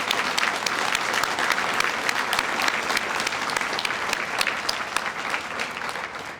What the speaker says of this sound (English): everyone please applaud and recognize these amazing students